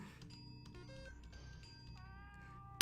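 A cat meows a few times over layered electronic tones, like a game sound effect, ending with a sharp click.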